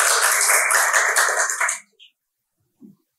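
A short burst of applause from a group of friends at an Islamic finance talk show, dense clapping for under two seconds that stops abruptly, followed by a couple of faint thumps.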